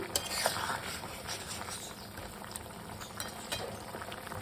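Curry of bitter gourd with ginger paste bubbling in a pot, a soft steady simmer with faint popping and crackle throughout, close and fairly quiet, no talking.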